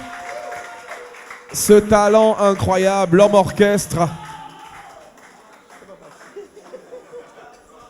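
Audience at the FEJAMAC 2025 concert applauding a musician, a burst of clapping and cheers swelling over a loud voice for a few seconds, then fading to a quieter murmur of clapping.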